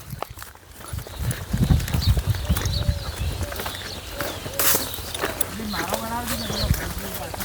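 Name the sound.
mare walking, hooves clip-clopping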